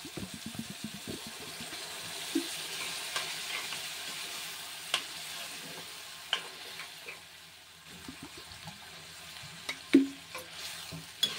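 A pan sizzles and crackles steadily while cooking vegetable masala upma, with scattered stirring clinks and a sharper hiss burst near the end as water is added.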